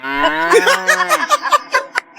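Comic buffalo mooing sound effect: a loud, drawn-out low moo that breaks into a string of quick, bleating pulses.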